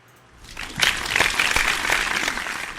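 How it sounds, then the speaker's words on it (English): A live comedy-show audience breaks into a brief round of applause, rising quickly from quiet into steady, moderately loud clapping. "little round of applause there"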